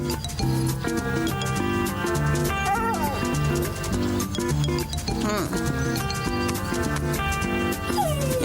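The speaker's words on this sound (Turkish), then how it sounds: "Dur aptal köpek" A dog whimpers and yips a few times over loud, continuous background music.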